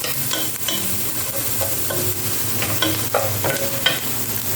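Garlic sautéing in a pan for Arabic food, a steady close sizzle with scattered scraping and stirring clatters from a utensil.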